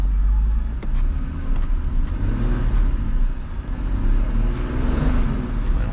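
A turbocharged BMW E36 engine revs in light throttle blips, rising and falling over a steady loud idle rumble with turbo whoosh, close to the car and without talk.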